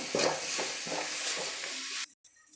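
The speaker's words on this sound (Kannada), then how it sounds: "ಇದು ಸ್ವಲ್ಪ ಫ್ರೈ ಮಾಡಿಕೊಂಡು ಆಮೇಲೆ ಅನ್ನನ ಸೇರಿಸ್ಕೊಳ್ತೀನಿ." Fenugreek leaf gojju frying in a pan gives a steady, close sizzle with a few scraping stirs, then cuts off sharply near the end with a brief quieter tail.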